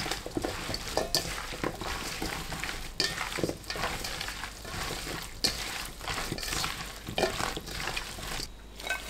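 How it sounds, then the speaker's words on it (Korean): Cucumbers for cucumber kimchi being tossed and mixed by hand with chili powder, ginger syrup, plum syrup, rice syrup and coarse salt, a steady wet squelching and rustling with occasional clacks of a bowl, close and moderately loud. "오이 넣고 버무리세요"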